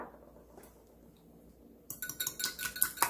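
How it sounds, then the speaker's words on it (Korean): Two eggs with salt being whisked in a bowl: quiet at first, then a rapid run of bright clinking taps from a utensil against the bowl, growing denser and louder toward the end. "달걀 두 알을 풀어줍니다."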